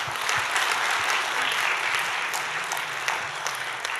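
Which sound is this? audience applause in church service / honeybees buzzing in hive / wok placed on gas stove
audience applause in church service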